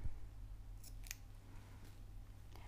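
Scissors snipping knitting yarn while finishing children's mittens, two or three quick faint close cuts over a quiet low hum.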